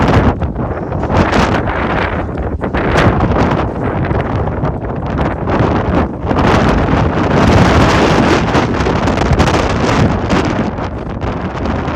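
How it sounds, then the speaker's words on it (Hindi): Strong wind battering a microphone on the mountain climb at Shikharji, a loud continuous roar with gusts surging and easing throughout and no talk. "आप देख सकते हैं कितनी ज़्यादा हवा है।"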